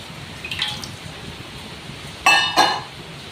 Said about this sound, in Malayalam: ഇനി നമുക്ക് ഇതുപോലെ കട്ടിയുള്ള ഒരു പാനടുപ്പത്ത് വെച്ച് കുറച്ച് വെള്ളം ഇതിലോട്ട് ഒഴിച്ചു കൊടുക്കാം